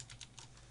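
Quick typing on a computer keyboard, a short burst of several light key clicks in uneven rhythm, close and quiet, with no voice.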